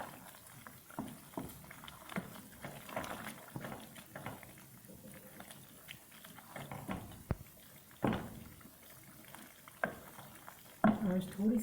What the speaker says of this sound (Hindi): इसको भून लेंगे अच्छी तरह।